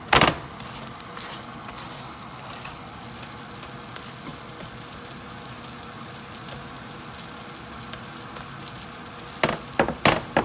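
Guyanese ghee roti frying in a hot pan, a steady close sizzle and crackle held for the whole stretch, with louder clattering handling noise at the start and near the end.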